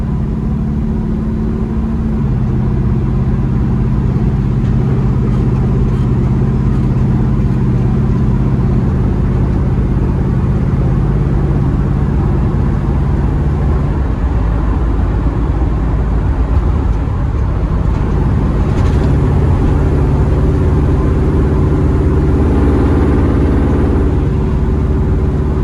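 Interior drone of a 1998 Ram 1500 van with a swapped Hemi engine cruising down a rural road: a loud, steady low rumble with road noise and gentle shifts in engine tone, continuous and without talk.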